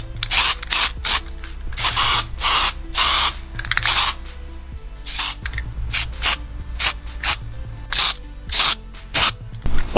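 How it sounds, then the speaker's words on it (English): Spray can hissing a light coat of etch primer onto a Holden HZ heater control panel, in short repeated bursts of loud hiss with brief gaps, close by, alongside mechanical clicking. "Going to give it a light coat of etch primer just to help adhere"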